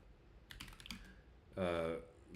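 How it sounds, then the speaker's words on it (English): A computer keyboard being typed on in a quick flurry of close keystrokes, followed by a short burst of a person's voice over a steady room hum. "I'm just typing."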